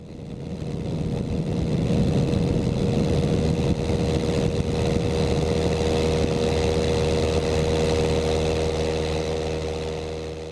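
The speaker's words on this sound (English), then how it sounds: "Just the roar of my engine." A small airplane's engine roars steadily in flight over New York City, a loud, continuous droning hum that holds an even level throughout with no talking.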